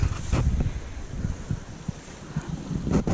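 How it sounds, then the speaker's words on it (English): Water flows and splashes into a pool in wooded hills outdoors, mixed with gusty wind buffeting the microphone. "The sound of the water is really nice."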